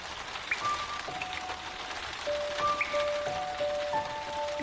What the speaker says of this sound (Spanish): Y si pudieras oír el verdadero sonido de la lluvia